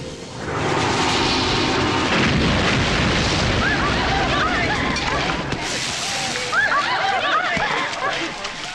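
A loud, sustained blast-like roar rumbles for several seconds with crackling debris-like noise, while voices talk over it.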